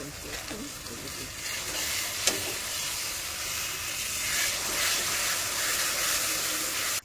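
Turmeric, cumin and chili powder fry in oil for a masala: a steady, fairly quiet hiss and sizzle continues throughout, with one brief sharp click near the middle.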